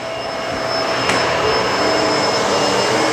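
A Bissell MultiClean Allergen Pet vacuum on carpet with its brush roll switched on, a loud, steady whine and roar running continuously, close up, with a brief click near the start.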